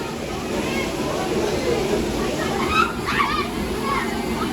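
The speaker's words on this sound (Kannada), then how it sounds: "ಸೊ ನೋಡಿ, ಅಲ್ಲಿಂದ ಬರ್ತಾ ಇರೋದು ನೀರದು" Steady rushing Himalayan stream water near Robber's Cave, Dehradun, fills the scene, a constant broadband wash with faint children's voices and chatter mixed in the background.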